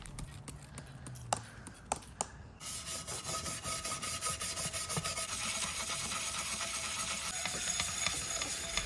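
Rust remover being rubbed onto the metal of a secondhand chair bought cheap for a flip, a steady close scrubbing rasp running continuously after a few faint taps at the start.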